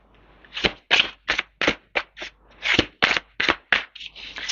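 Tarot cards being laid out and handled, a quick run of about a dozen crisp, close slaps and shuffling rustles in an uneven rhythm, with no voices.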